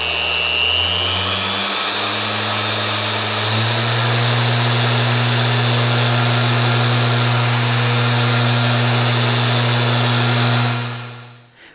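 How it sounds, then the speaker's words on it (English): Power polisher buffing a part on an R33 Nissan Skyline GTR, a loud, steady, close electric whine whose pitch climbs in the first few seconds, then holds before spinning down at the end. "so we did a quick pass with the polisher"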